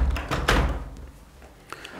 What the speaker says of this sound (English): Just close the door, get rid of the road noise.